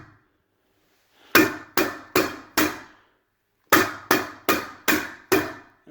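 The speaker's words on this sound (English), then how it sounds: "I like to set my staples about every 6 or 8 inches apart" A carpet seam being stapled during installation gives two loud bursts of sharp, evenly spaced impacts, four or five close staple shots in each, separated by a short pause.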